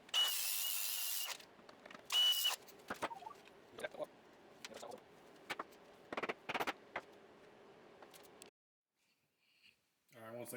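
Hand tools work a universal joint off the shifter of a Nissan S-chassis car during a transmission swap. Close, sharp ratcheting clicks and metallic clanks come in irregular bursts, with one louder rasping burst and a short stretch of quiet near the end.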